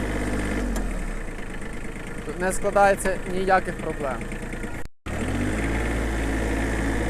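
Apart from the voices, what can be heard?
Mitsubishi MT135 mini tractor engine running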